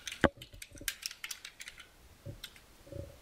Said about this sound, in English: You actually type your text here.